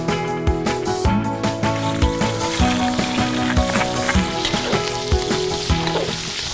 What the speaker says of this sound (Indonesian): lalu ganti dengan menumis semua bumbu irisnya